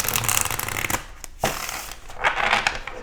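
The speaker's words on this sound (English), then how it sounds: "Let's go and get a shuffle in here for you" Tarot cards being shuffled by hand, a crisp riffling and sliding rush in several bursts with brief pauses, close and fairly quiet, with no voices.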